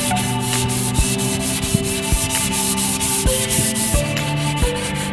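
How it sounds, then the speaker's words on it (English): Fine 3M P320 sandpaper worked by hand over set primer on a BMW E30 body panel, a steady, close rasping rub with rhythmic back-and-forth strokes and no voices. "I'm gonna go over it with some fine 3M P320 sandpaper."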